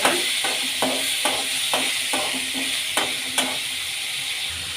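Boiled fresh pigeon peas fry in a pan while a spatula stirs them, a steady sizzle broken by regular scraping strokes about twice a second, close and clear.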